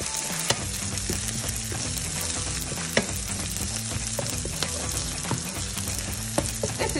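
Food fried in a pan for a spinach cheesy cake, producing a dense continuous sizzle with occasional spatula clicks and taps, close and steady throughout.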